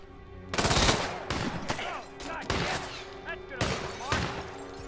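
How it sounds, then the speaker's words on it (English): Gunfire in the video game Hitman 2 comes in several rapid bursts of shots over a steady background hum, fairly loud and close, with short gaps between volleys. "Who's shooting at me?"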